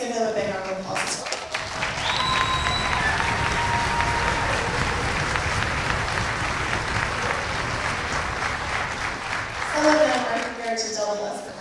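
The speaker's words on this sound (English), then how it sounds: "let's give them a big round of applause as well" A school auditorium audience applauds the Onslow County orchestra teachers at an all-county orchestra concert, a loud, sustained wash of clapping for about ten seconds with a few voices audible at the start and end.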